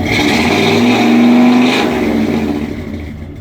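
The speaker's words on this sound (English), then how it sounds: "First startup, first time it's moved since the Juliet incident." A 1960 Edsel engine at its first startup after long disuse, revving up steadily and fairly close, with the engine note rising and then easing off toward the end.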